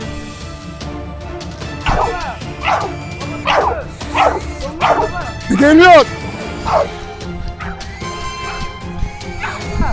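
Repeated dog barks and yips from a bully-breed dog ring out at close range in an uneven series while it catches a wild boar on a mountainside, mixed with people shouting and moving around.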